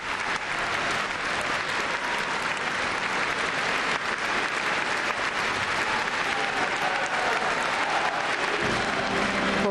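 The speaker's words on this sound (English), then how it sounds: "Of course, receiving much applause, as you can hear and see there" Loud, dense crowd applause at a signing ceremony in Crimea with Vladimir Putin, a continuous roar of many clapping hands sustained throughout without a break.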